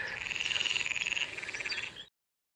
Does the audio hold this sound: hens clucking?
no